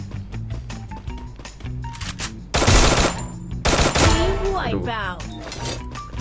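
Rapid automatic gunfire rattles in the Free Fire mobile shooter game, first in lighter bursts and then in two dense, loud volleys, with a voice briefly talking over the shooting.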